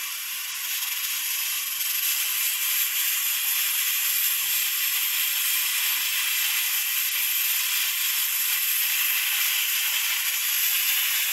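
Pressure cooker on the stove building pressure, cooking vegan bean broth, giving off a steady, loud hiss of escaping steam with a faint rattling tick underneath, continuous throughout with no voices.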